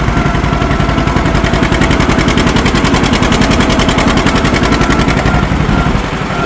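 A John Deere B tractor engine chugs steadily and loudly with a rapid, even put-put rhythm, running continuously up close with no talking.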